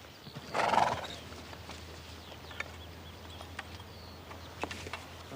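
A lame horse gives a short whinny, followed by scattered hoof clops on hard ground against a low steady rumble.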